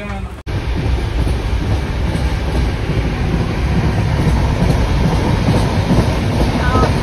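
A train rumbles steadily along the tracks arriving at New Jalpaiguri (NJP), with a continuous loud roar and faint rhythmic clatter, close by, with no talking.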